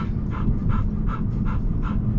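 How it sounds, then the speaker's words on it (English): A Labrador pants steadily in quick, even breaths about every 0.4 seconds, close and fairly loud over a low rumbling background, as if riding in a vehicle after a two-mile hike. "and now panting."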